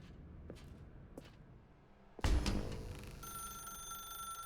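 A telephone rings inside a dark room in The Stanley Parable: Ultra Deluxe, a sustained bright electronic ring starting abruptly after quiet footsteps and continuing steadily at moderate volume.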